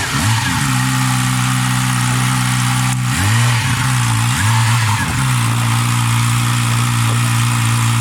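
Yamaha R6 sport motorcycle fitted with a full GYTR exhaust, loud and close, blipping its throttle in several sharp revs that rise and fall over a heavy rumbling idle.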